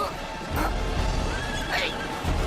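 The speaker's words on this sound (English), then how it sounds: "Great, you spooked the horses." Spooked horses in an anime, a couple of shrill whinnies rising over a steady rumble of hooves and commotion, loud and close, with voices mixed in.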